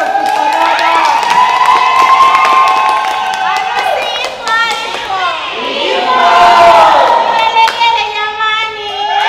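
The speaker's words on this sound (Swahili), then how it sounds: "Makofi kwa baba." Wedding guests clap and cheer together in a lively crowd, hand claps mixed with loud overlapping voices and singing-like shouts throughout.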